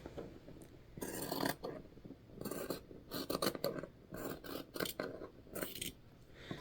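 Scissors snipping through fabric while trimming the end of a sewn purse scarf, a series of close, crisp rasping cuts in uneven clusters with short pauses between, fairly quiet and without talking.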